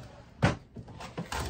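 Desk drawer holding stickers and stamp pads opened, a couple of close wooden thunks and sliding knocks in a quiet room.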